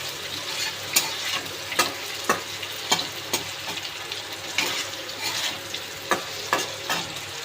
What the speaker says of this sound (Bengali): এবার আমি আলুটা ভেজে নিচ্ছি